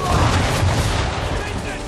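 A loud burst of booming gunfire in Assassin's Creed III with a noisy, rumbling tail, dense and close.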